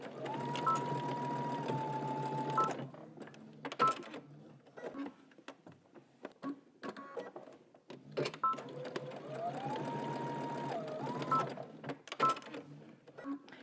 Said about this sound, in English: I'm gonna back stitch and just stitch until I meet the existing stitching.